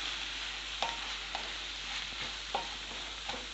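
A spoon stirs an onion and egg curry in a pan, with a few sharp scrapes and taps over a faint, steady low sizzle, heard close with no voices.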